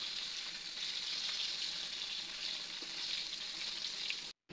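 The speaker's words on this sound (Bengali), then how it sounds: "এপাশ ওপাশ উল্টিয়ে দিব। সুন্দর লাল কালার চলে এসেছে। এভাবে সবগুলো মাছ ভেজে নিব।" Tilapia pieces fry in hot oil in a pan, a continuous bright sizzle that holds steady and close before cutting off abruptly at the end.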